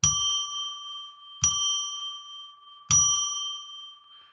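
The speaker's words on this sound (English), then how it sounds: "I'm going to ring a bell now to declare a sacred space" A small bell is struck three times at even intervals, each strike ringing out bright and clear, then slowly fading alone in a quiet room.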